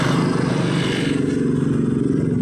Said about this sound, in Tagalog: Umandar na yung motor.